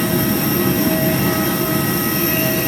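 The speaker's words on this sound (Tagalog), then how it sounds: "Ang aeroplano namin." Airplane engines drone loudly at an airport in the Philippines before a flight home to Manila, a steady, close roar with a faint whine and no talk over it.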